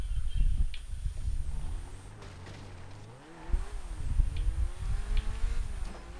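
A car engine in Grand Theft Auto V revs up and down, the pitch climbing, dipping and climbing again in several loud, close pulls with no talk over it.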